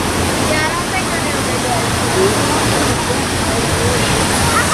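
Water at a waterpark play area with slides in Sevierville, Tennessee, pours and splashes in a loud, continuous roar, as from a large tipping bucket, close by with faint voices underneath.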